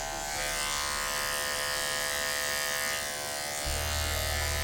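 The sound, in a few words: electric hair clippers with 0/8 detachable blade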